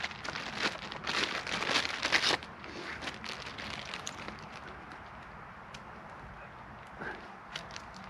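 A plastic bag crinkles and rustles loudly in bursts for the first couple of seconds while pine resin is being gathered outdoors, then fades to quieter scattered crackles and a few faint clicks over soft background noise.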